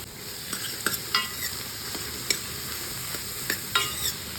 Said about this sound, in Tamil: வெங்காயம் வதங்குற டைம்லேயே நம்ம பீக்கங்காய் கட் பண்ணி வச்சுருக்கிற பீக்கங்காவை சேர்த்து அதோட சேர்த்து வதக்கிடலாம்.